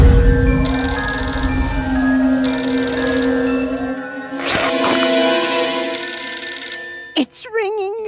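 A telephone rings in repeated bursts of bright electronic tones, followed by a short sharp clatter near the end.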